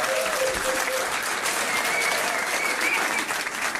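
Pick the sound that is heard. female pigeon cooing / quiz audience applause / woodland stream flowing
quiz audience applause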